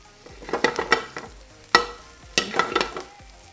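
Thyme sizzling in hot frying oil already flavored with rosemary and sage, soft crackling bursts with a few louder pops and stirring, close up with no talking.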